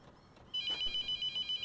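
A telephone rings inside The Mortuary Assistant video game, starting suddenly and repeating in short, evenly spaced electronic trills that are clear and close.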